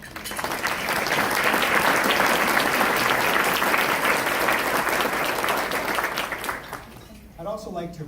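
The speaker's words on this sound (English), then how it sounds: "I'd like to ask for a round of applause for our community." Sustained applause from a crowd at an economic forecast breakfast, loud and dense clapping that fills several seconds before fading, with a voice emerging at the end.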